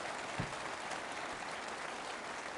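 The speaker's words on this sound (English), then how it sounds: "Round of applause, please, for Mr. Sunak taking my questions." Steady, dense applause from the audience at a Conservative Party leadership hustings, a continuous even wash of clapping with no talk over it.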